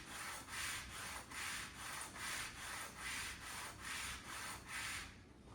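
Wet/dry sandpaper rubbed against a grinder to sharpen it gives a soft, faint, rhythmic rasp in about seven even back-and-forth strokes, close and alone.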